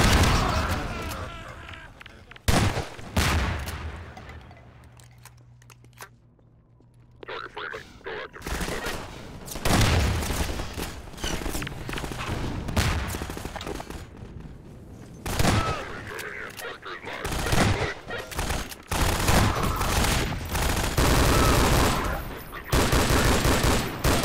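Half-Life 2 gunfire rings out in repeated bursts of loud shots and rapid automatic fire. Someone talks over and between the volleys, and there is a brief quieter stretch early on.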